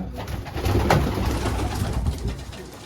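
Adana pigeons coo steadily at close range in a breeder's loft, soft throaty calls overlapping in a continuous low murmur with no talk.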